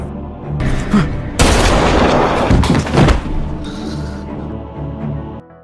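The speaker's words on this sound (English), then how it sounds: "Jimmy ends Danny's life by shooting him." A gunshot in a mafia crime film scene as one man shoots another, a loud booming burst over dense film soundtrack and ambience, with several heavy thumping peaks in quick succession.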